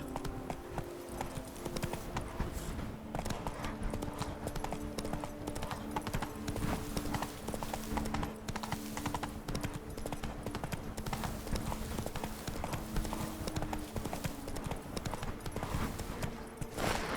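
Roach, a horse in The Witcher 3, gallops with continuous rhythmic hoofbeats over game ambience, a steady clip-clop that is fairly quiet and unbroken.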